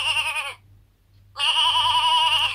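Two loud, wavering sheep bleats with a rich harmonic quaver, separated by a short silent gap, heard alone and close at hand, set against a faint low hum.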